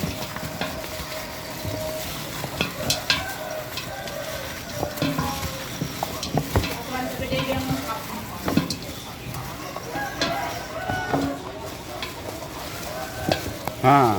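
Spiced nihasumba, a Simalungun dish being prepared for a church olop-olop celebration, is stirred in a pan with scraping and sizzling frying sounds throughout, while a person speaks intermittently.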